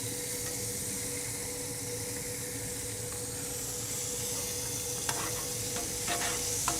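Butter sizzles on a hot griddle while brioche buns toast, a steady, even hiss that runs throughout with a few faint clicks and taps near the end.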